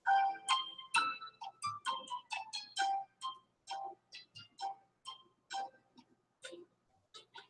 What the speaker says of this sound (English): I feel like we need Jeopardy music. I don't wonder if I have that on my phone.